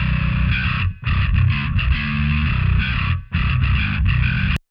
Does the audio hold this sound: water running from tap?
no